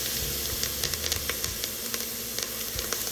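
Peppers sizzle in a hot pan, a steady close hiss of frying with small crackles and pops scattered throughout, no voices.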